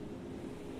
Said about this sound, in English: You hear the sound of the ocean in the distance,